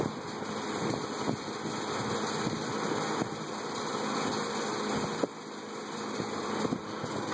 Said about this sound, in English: These grills rattle like crazy.